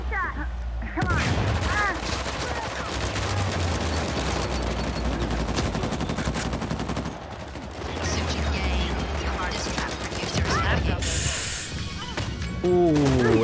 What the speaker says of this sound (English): Ooh, that was a good nade.